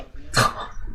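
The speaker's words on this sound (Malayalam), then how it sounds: "പട്ടി." One sharp, close dog bark, a single short burst rising out of quiet room background.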